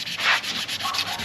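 Wet sanding on a boat's gelcoat gives quick, rhythmic rasping strokes, close and fairly soft, repeating back and forth with no voices.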